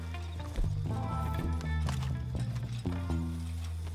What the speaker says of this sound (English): I'm just gonna get my horse.